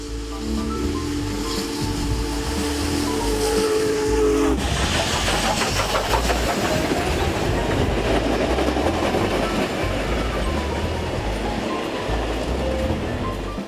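A passing Big Boy steam locomotive rumbles loudly nearby, with rhythmic clatter of wheels on rails after a sustained whistle tone cuts off.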